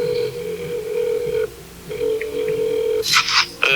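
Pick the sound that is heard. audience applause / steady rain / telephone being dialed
telephone being dialed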